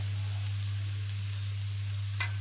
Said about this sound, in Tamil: நல்லா கிளறி விட்டுக்கிட்டே இருங்க ஒரே மாதிரி.